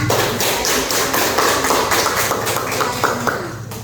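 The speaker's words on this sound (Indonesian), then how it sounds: "kita kasih dulu tepuk tangannya" Students clapping hands in a classroom during a lesson, a continuous burst of many claps with some sharper individual hits, close and fairly loud.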